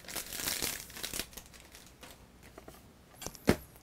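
Plastic vinyl wrap tearing off a Nintendo NES game box, with a crinkly rustle near the start, a few quieter crackles and a sharp rip close to the end, close up and with no talk.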